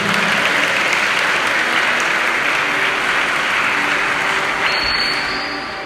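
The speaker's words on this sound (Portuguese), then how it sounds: "Aplaude ele." A church congregation bursts into loud, dense applause during a sermon, a continuous roar of many hands that holds steady and then begins to fade toward the end.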